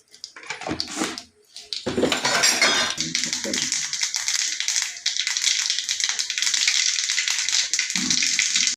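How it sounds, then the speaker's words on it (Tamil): Mustard seeds spluttering and popping in hot oil in a pan for a potato stir-fry, a loud dense crackle that starts abruptly and runs steadily after a few brief kitchen clatters. "எண்ணெய் விட்டு நம்ம கடுகு போடுறோம்."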